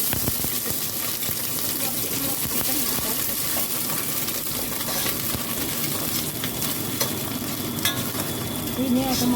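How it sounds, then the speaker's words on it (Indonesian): Shallots sizzle and spatter in hot oil in a frying pan while spices are fried for vegetable lodeh, a steady, close crackle that lasts throughout with no voices. "ini aku mau goreng bawang merahnya ya sahabat online"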